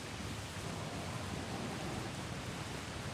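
Rain falls in a Star Wars roleplay game, a dense, steady hiss with a low rumbling undertone, continuous and fairly quiet throughout, with no voices.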